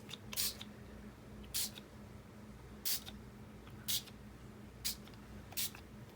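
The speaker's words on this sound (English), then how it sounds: "now we're gonna spray" Spray paint hissing over a reusable stencil mask cut on a Cricut Joy: six short, sharp bursts at roughly one-second intervals, fairly quiet and close, with faint low background hum between them.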